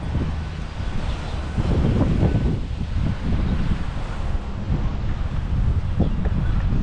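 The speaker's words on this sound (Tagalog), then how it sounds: "napakalakas ng hangin dito" Strong wind buffets the microphone in loud, continuous low rumbles and gusts, with a faint wash like surf in the background.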